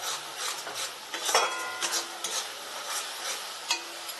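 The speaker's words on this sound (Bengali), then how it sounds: "সব মশলাগুলো খুব ভালো করে কষিয়ে নিচ্ছি।" Ground spices are sautéed in a pan for jackfruit kalia, with a soft continuous sizzle and repeated scraping and clinking of a spoon against the metal pan, close and steady, with no voices.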